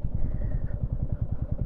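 A motorcycle engine idles close by at Dhanushkodi with a steady, rhythmic low thumping, as the bike is ridden up and parked.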